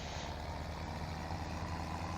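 A truck in Farming Simulator 17 rumbles steadily at low volume, a continuous engine drone with no other sounds over it.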